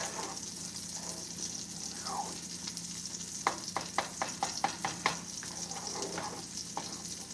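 Grease popping and sizzling in a frying pan as a Georgia breakfast of grits, scrambled eggs and pork sausage cooks, a steady near sizzle broken by a quick run of sharp crackling pops, no talking.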